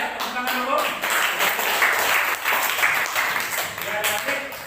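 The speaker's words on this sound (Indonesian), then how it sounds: "tepuk tangan dulu" A classroom of high school students claps after a group presentation in a chemistry lesson, a short uneven burst of applause mixed with voices talking over it.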